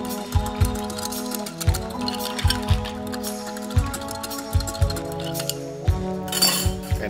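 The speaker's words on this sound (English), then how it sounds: "Let me give this mixture a stir." A spoon stirs an agua fresca mixture made with Cocchi Rosa in a glass, giving about a dozen sharp, close glass clinks in an uneven rhythm with no talk.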